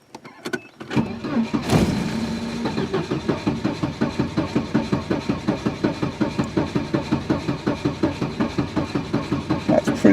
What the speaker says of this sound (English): That's pretty good cranking.